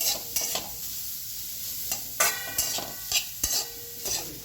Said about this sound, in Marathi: खिसलेलं बीट तुपामध्ये चांगलं परतून घ्यायचंय